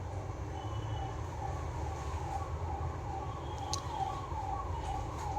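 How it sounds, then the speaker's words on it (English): A distant ambulance siren wails in slow, repeating rises and falls beneath a constant low rumble of background noise, faint and steady across the whole stretch. "Wait, the ambulance."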